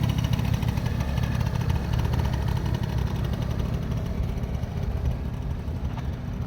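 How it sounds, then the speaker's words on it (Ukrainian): A Honda Dio AF35 scooter engine idles steadily up close, a continuous low buzzing rumble with no other sounds. "Двигун працює ідеально,"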